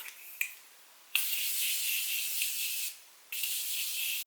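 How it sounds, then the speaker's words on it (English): Several hissing bursts from a Morphe makeup setting spray bottle sprayed over a face, one short and two long sustained mists, close and fairly soft with brief pauses between. "I'm taking my Morphe setting spray and I'm just spraying that all over my face"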